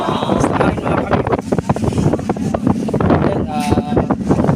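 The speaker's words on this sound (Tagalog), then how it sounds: "Lakas ng hangin mga kamigo." Strong wind buffets a fishing boat out at sea after a two-day, two-night fishing trip, a constant loud roar and rumble against the microphone with someone talking over it throughout.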